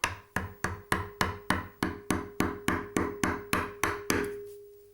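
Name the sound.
mallet tapping a wood carving chisel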